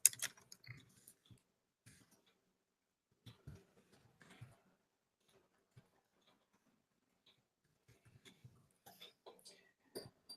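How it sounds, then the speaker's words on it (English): Scattered light key clicks from a Chromebook keyboard, faint and irregular, arriving in small clusters with long quiet gaps and a few soft voice fragments in between. "I could just type it in Classroom"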